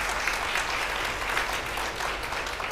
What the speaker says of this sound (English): It's worth an applause.